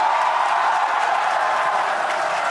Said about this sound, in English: you can definitely tell by the crowd here in Hawthorne